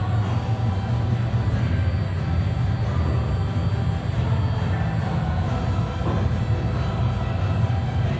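The Zadra roller coaster train at Energylandia roars past on its track, a loud, continuous rumbling rush that holds steady for several seconds, with no talking.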